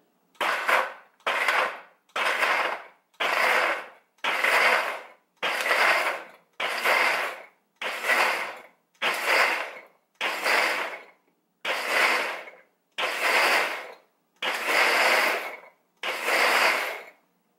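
KitchenAid 5 Speed Diamond Blender pulsing on its chop setting, a steady series of about thirteen loud, even bursts about a second apart, each cut off by a short silence, with no talking.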